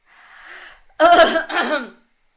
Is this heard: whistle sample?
no